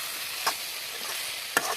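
Vegetables with cauliflower stalks and spices fry in a pan with a quiet, continuous sizzle, broken twice by the brief scrape of stirring.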